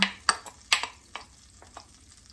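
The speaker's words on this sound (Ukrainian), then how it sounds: "Я дала масло на петельничку і тепер додаю нашу цибульку." Onion sizzling in oil in a pan, with a few sharp stirring scrapes at intervals over a low frying hiss, close and without speech.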